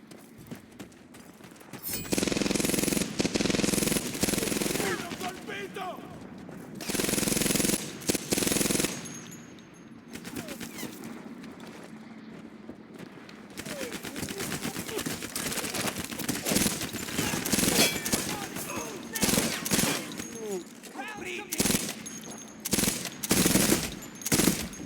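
Heavy automatic and rifle gunfire in the video game Medal of Honor Airborne, dense overlapping bursts and volleys that come and go throughout, loud and sustained without speech.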